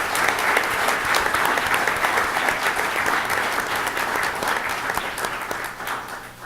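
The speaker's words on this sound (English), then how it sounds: "So let's all clap to get our moment to stop and enjoy." Audience at a school board meeting breaks into sustained applause, a dense, even wash of many hands clapping at close range that holds steady for several seconds before tapering slightly at the end.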